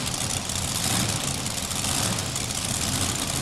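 Modified pulling tractors with tuned engines idle at a 1995 Louisville tractor pull. The loud, dense rumble stays steady and close, with no voices over it.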